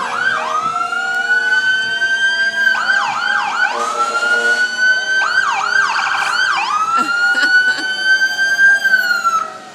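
Loud wailing fire engine sirens rise and fall nearby at an Independence Day parade, with yelping bursts and a blaring horn mixed in, continuous throughout.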